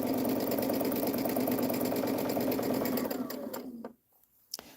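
A Baby Lock Ballad sewing machine stitching, a steady rapid mechanical whir that runs continuously close by, then slows and stops, followed by a couple of faint clicks.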